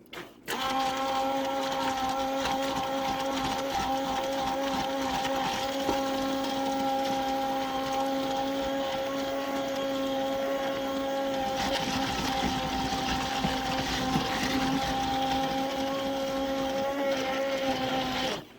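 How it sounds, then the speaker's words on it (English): An immersion blender whirs steadily through a pot of long-simmered fruit for juice, a loud continuous motor drone with slight shifts in pitch as it churns, running almost the whole time before cutting off. "I'm going to take the immersion blender."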